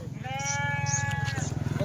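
A Kathiawadi goat kid on a goat farm gives one clear, wavering, drawn-out bleat close by, over a low rumbling background.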